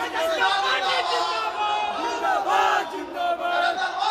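A crowd of rally workers chants slogans inside a packed pandal, many voices shouting together in rhythmic bursts amid general crowd noise.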